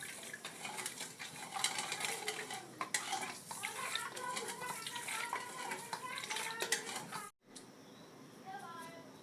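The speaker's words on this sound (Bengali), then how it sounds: "এবার আমি চিনিটাকে গুলে জলটা দিয়ে দেবো।" A spoon stirs sugar into water to dissolve it for fruit ice cream, making continuous clinking and scraping against a container, fairly close, with a short break near the end before the stirring resumes.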